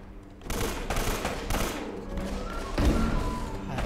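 Bursts of gunfire in the Uncharted video game, a rapid clatter of shots sounding repeatedly and close over a dense, noisy battle mix.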